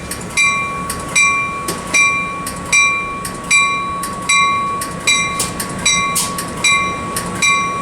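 Passenger train 777, led by cab car 6905, departs Fullerton station with a steady rhythmic clatter of wheels over rail joints and a sustained high ringing tone, loud and close throughout.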